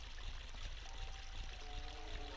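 A waterfall in a room of the Zelda: Ocarina of Time video game rushes in a steady, moderately quiet wash, with faint tones of game music joining near the end.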